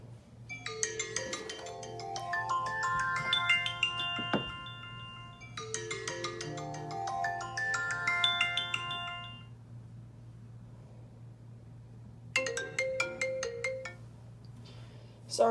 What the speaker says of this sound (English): I'm going to try out a ringtone.